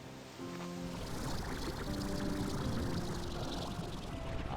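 Water being drunk in the video game Slime Rancher 2 makes a steady, loud gushing pour that holds for several seconds after a brief quiet start, with no voices over it.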